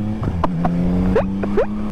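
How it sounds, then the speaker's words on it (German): A motorcycle engine revs in short bursts, its pitch climbing with each throttle blip over a steady idle rumble, close by. "Du merkst richtig, der Motor will los."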